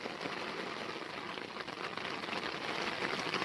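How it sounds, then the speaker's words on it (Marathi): Heavy rain pours onto an open farm field, a dense, even hiss of drops close by that holds steady throughout with no pauses. "पाऊस जोरात लागतोय"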